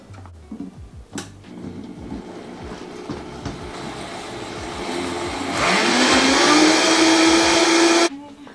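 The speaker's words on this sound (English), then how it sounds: "I'm gonna stick this on the blender" A kitchen blender whirs up to speed and runs loud and steady for a few seconds, blending chopped dried onion with seasoning into a liquid, then cuts off abruptly. Softer kitchen clatter comes before it.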